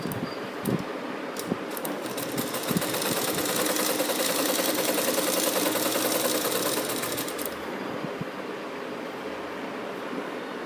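A sewing machine runs long stitches down a kameez side slit, a fast, steady mechanical chatter that holds for several seconds before easing off, heard alone and close.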